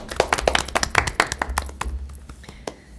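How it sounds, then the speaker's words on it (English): A small group of council meeting attendees gives a short round of applause, sparse distinct claps close by that thin out and fade after about two seconds. "They do deserve a round of applause."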